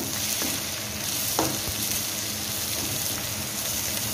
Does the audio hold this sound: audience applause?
no